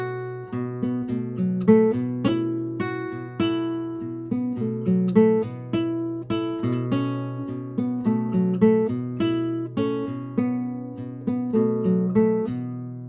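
Tuareg-style guitar melody over a drone on the D, with the next two melody notes swapped for descending adjacent scale notes, a steady rhythmic plucked pattern played alone and close.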